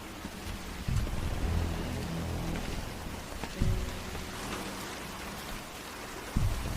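Steady, moderately quiet rain patters down continuously, broken by a few louder thumps and splashes.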